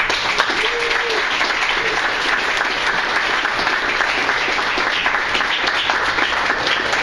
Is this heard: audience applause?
yes